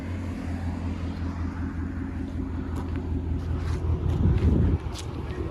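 A Ford Mustang GT with the 5.0 Coyote V8 rumbles deeply at idle, then gives one short, louder rev near the end before settling back down.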